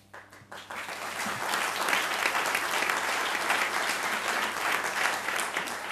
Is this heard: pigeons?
no